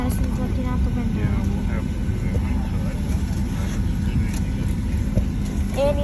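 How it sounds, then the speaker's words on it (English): Inside an airplane cabin before takeoff, a constant low engine and air hum fills the space while people talk close by. "We're on an airplane."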